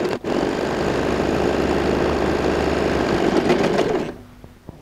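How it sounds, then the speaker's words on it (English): A sewing machine stitches the main fabric of a pleated, lined handbag, running in a loud, close, continuous whir for about four seconds before stopping, followed by a few faint handling clicks. "Same way, I'm going to go ahead and sew the main fabric as well."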